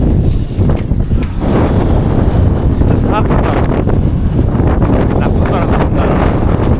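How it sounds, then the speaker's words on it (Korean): Strong winter wind roars and buffets the microphone beside a shipwreck, a loud, continuous low rumble with gusting surges and no break throughout. "진짜 사악하다. 나쁜 바람."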